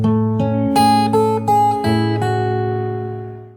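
Fingerstyle acoustic guitar picks a slow melody over a held chord, the bass notes ringing under roughly six plucked treble notes before the last one fades out.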